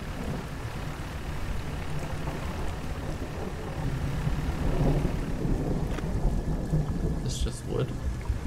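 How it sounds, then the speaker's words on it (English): A thunderstorm with rain in the fishing game Dredge: steady rain hiss with low rumbling thunder swelling midway, plus a few faint sharper sounds near the end. "It's a storm."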